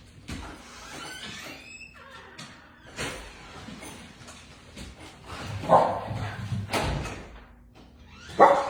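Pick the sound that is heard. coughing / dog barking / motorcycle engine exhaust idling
dog barking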